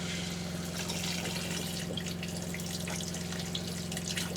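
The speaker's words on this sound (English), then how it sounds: "we're going to turn on the shower." Water from an RV shower runs in a steady, moderately loud hiss and spatter, continuous with no voices.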